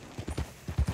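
Horse hooves clip-clop in Red Dead Redemption 2, about six close, loud steps in an uneven trotting rhythm over roughly a second, heard alone without talk.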